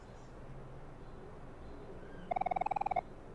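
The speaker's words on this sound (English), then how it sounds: "You can hear some birds chirping outside." A brief, rapid trill of about a dozen quick bird chirps rings out over faint, quiet ambience, heard from indoors in the video game OMORI.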